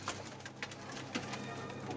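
Pigeon cooing in short soft bursts, faint and fairly distant, over a steady low background hum with no one talking.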